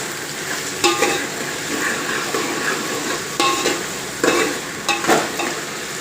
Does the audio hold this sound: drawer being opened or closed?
no